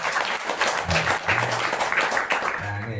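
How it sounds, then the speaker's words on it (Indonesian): An audience at a business seminar claps, a soft, fairly faint patter of applause mixed with a voice over a few seconds. "Maka tepuk tangan buat Bapak Ibu semuanya."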